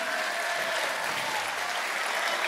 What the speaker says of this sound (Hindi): एक बार ज़ोरदार तालियां बजा के मुझे इजाज़त दें।